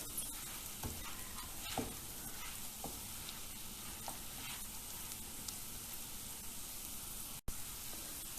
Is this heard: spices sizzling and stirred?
yes